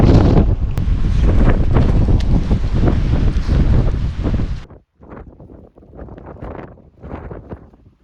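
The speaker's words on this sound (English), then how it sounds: "The wind is blowing my lamp about." Strong wind roars across a hilltop summit during foul weather at a solo wild camp in the Yorkshire Dales, loud and gusty buffeting the microphone, then dropping abruptly to weaker, intermittent gusts.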